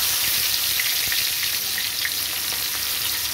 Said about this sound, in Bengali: মাছ ভাজার তেলে আমি দিয়ে দিচ্ছি রসুন।